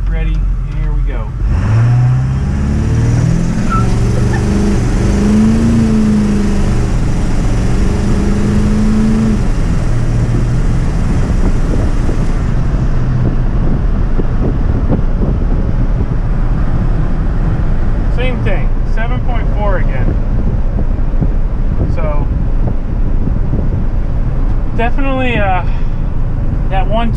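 A car with a newly fitted torque converter lock accelerates hard, its engine roaring loud and close and climbing in pitch, then settling into a sustained drone with faint voices underneath.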